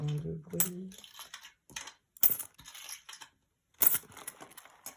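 Small coins are dropped and handled, giving scattered light clinks and rattles at close range between quiet gaps, with a brief low hum at the start.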